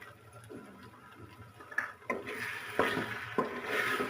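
Potatoes being fried and stirred in a pan while aloo bharta is cooked, with tamarind paste added. A spoon scrapes and clatters against the pan in a few sharp strokes over a soft, steady sizzle, and nobody speaks.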